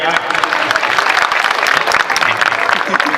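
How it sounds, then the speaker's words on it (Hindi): Dense, steady applause from an audience honouring the principal at a school annual function, a loud, continuous patter of clapping with no break. "जोरदार सम्मान में इनके ताली लगा।"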